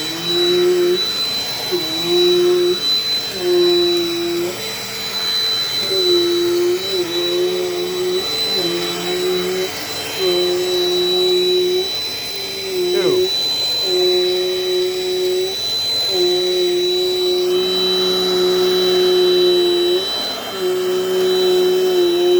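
A Dirt Devil Dynamite Plus vacuum cleaner runs continuously up close, a loud steady motor whine with a high pitched tone, swelling and dipping in a regular rhythm as it is pushed back and forth, with no talking.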